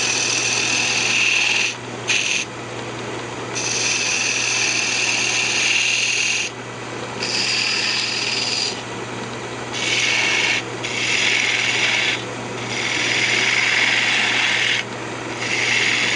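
A parting tool cuts into wood spinning on a lathe while a lamp is turned. It makes a loud, close, harsh scraping hiss in long bursts, broken by short pauses, over the steady hum of the lathe.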